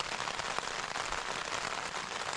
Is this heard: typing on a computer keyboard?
no